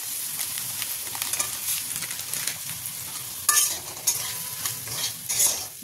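Semolina fries in a pan with vegetables, a soft sizzle under repeated stirring and scraping strokes, close by, with a few sharper scrapes toward the end.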